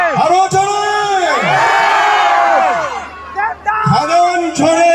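A crowd at a film event in Siliguri roars and whoops louder, with rising yells and bellowed shouts that come in bursts and briefly dip before surging again.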